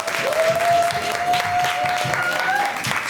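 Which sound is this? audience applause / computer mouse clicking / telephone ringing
audience applause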